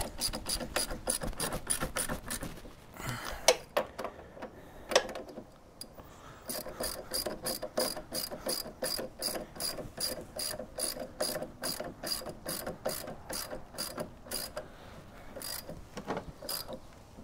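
A ratchet with a 17 mm socket tightening swingarm bolts on a 1984–2017 Harley-Davidson Softail, a quiet, close, fast rhythmic clicking in long runs with brief pauses between strokes.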